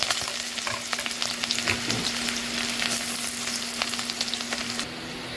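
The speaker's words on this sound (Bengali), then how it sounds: "তেলটা গরম হয়ে গেছে এবার পেঁয়াজ কুচিটা দিয়ে দেবো" Chopped onion sizzles in hot oil for a potato filling, a steady crackling fry with small stirring scrapes throughout, close and fairly loud, with no voices.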